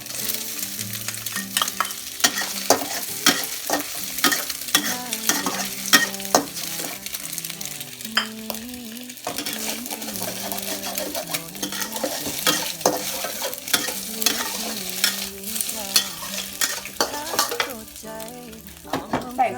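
Sausage and egg frying in a pan, a continuous sizzle under frequent clinks and scrapes of a utensil stirring against the pan, steady and close throughout.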